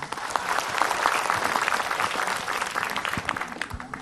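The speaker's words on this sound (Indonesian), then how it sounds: "tepuk tangan buat Kak Widya" An audience claps for Kak Widya at a religious talk, a dense, steady burst of applause that stays loud throughout before thinning slightly at the end.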